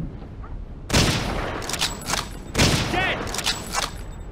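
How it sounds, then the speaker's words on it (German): Bursts of gunfire in the video game Hidden & Dangerous 2, two heavy volleys about a second and a half apart, with game sound effects and voices talking underneath. "Au, da unten schießt auch einer auf uns."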